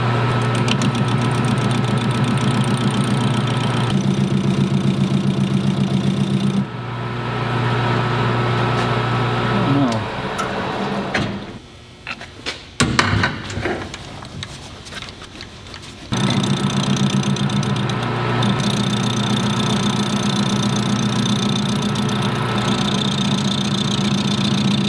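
A machine cuts through a metal part while the flat bed of an XP camper is being thinned. A steady loud mechanical drone runs throughout, changes pitch and roughens in the middle as the cut is made, then settles back to a constant hum.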